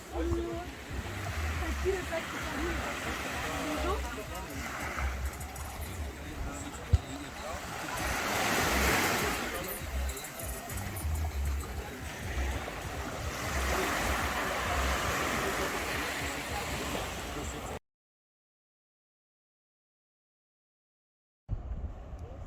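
Waves washing onto a quiet beach in Martinique, a broad steady rush of surf with wind buffeting the microphone, swelling now and then before cutting to a brief silence.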